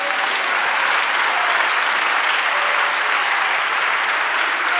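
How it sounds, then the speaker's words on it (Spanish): Loud, dense applause from a large church congregation, continuous and unbroken throughout, with no talking over it. "Dale un aplauso al Señor."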